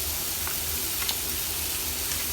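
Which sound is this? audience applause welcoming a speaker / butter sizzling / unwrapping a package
butter sizzling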